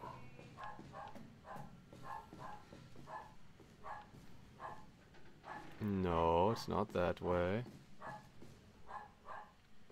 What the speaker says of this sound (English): the capture is definitely picking up that sound. That barking sound.